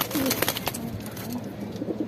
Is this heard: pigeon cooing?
yes